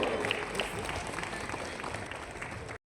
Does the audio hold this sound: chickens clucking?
no